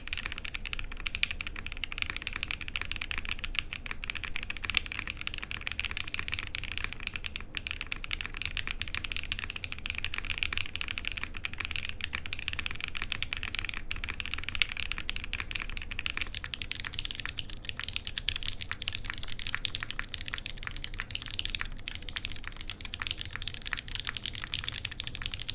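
Continuous fast typing on a mechanical keyboard fitted with Blueberry Chiffon switches with nylon housings, a dense stream of close, crisp clacky keystrokes with no pauses.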